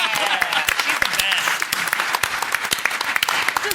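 Conference audience at a game industry panel breaks into lively applause, with sharp individual claps standing out over a thick wash of clapping for several seconds.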